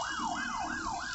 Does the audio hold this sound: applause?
no